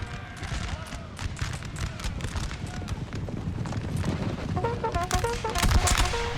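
Musket volleys and artillery fire crack and boom throughout a Napoleonic battle in Napoleon: Total War, with horse hooves clattering beneath the dense, continuous din.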